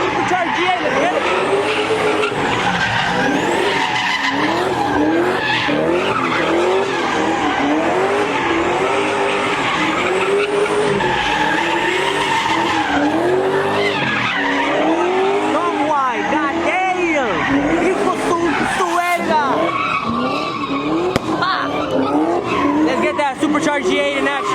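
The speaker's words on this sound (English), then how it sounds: "Supercharged G8 in action." Supercharged Pontiac G8 at a crowded Cinco de Mayo car meet, loud and continuous, with engine roar and repeated tire squeals as it skids. A crowd shouts and talks throughout.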